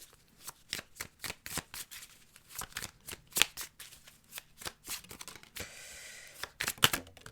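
A deck of chakra cards being shuffled by hand, quick papery riffles and flicks in uneven bursts, close and fairly quiet, with a short rustling stretch near the end and no talking.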